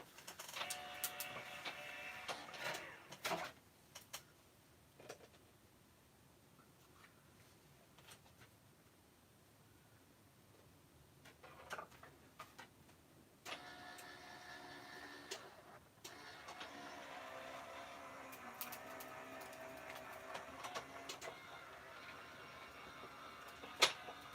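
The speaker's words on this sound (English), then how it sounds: "I'm going to run through the die cutting machine just like that." A die cutting machine feeds a paper card through its rollers with a steady whirring, mechanical grind in two stretches, quieter pauses between, at close range with no talking.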